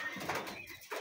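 Pigeons at a pigeon farm coo softly in the early morning, a brief close burst of low burbling calls with no talking.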